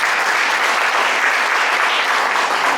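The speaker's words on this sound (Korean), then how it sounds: "환영의 박수 부탁드립니다." Welcoming applause from a church retreat audience before a pastor's lecture, dense, even clapping sustained throughout, loud and full with no talking.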